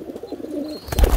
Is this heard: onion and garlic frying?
no